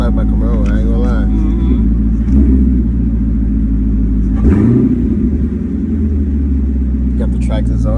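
A Corvette fitted with a track exhaust rumbles loudly close by, with a deep idle and a short rev swell midway, while people talk over it.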